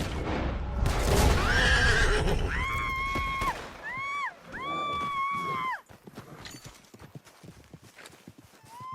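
A horse in Red Dead Redemption 2 lets out loud, drawn-out whinnies close by amid clopping hooves and rustling, fading into quieter scuffing.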